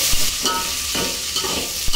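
Garlic frying in hot oil for a Rohu fish curry made without coconut, a steady close sizzle broken by a few louder stirring scrapes across two seconds, with no voices.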